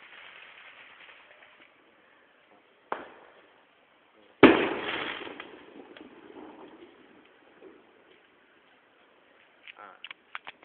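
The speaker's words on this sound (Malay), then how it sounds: "kali ni kita akan mempelajari cara untuk membakar mercun telur atau kita digelarkan sebagai mercun kanak-kanak" A small children's egg firecracker (mercun telur) lit and going off: faint fizzing, a modest pop, then a loud sharp burst trailing into crackling sizzle, with a few scattered ticks afterward.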